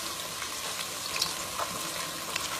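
Onions and leaves frying in a saucepan for Ghanaian fish stew, giving a steady soft sizzle with faint crackles and small pops throughout, no talking.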